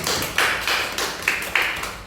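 A handful of sparse, scattered claps ring out in a classroom during a biology microteaching lesson, applauding a student; about six distinct hits, fairly close, with no talking.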